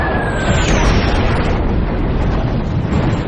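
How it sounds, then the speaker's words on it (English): A 500-pound bomb exploding on a World War II destroyer, heard as a loud, continuous roaring blast with rumbling debris noise throughout and a faint falling whistle at the start. "A single 500-pound bomb hits the destroyer, jamming the rudder 26 degrees to port."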